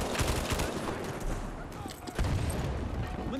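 Automatic gunfire from a BAR M1918A2 in the Battlefield 5 multiplayer video game, a dense rapid fusillade of shots continuing through the whole stretch with a brief dip before resuming, loud and close.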